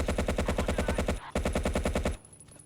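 Rapid machine-gun bursts ring out in the WWII shooter Battlefield 1942, two long strings of evenly spaced, loud, close shots with a brief break between them, then a quieter tail.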